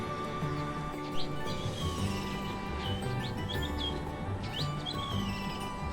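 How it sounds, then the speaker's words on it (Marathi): Sparrows chirp in quick, scattered tweets on a quiet morning outdoors over a steady background hum, several calls overlapping at moderate distance. "सकाळचं असं बाहेरचं वातावरण आहे, एकदम शांत. चिमण्यांचा आवाज."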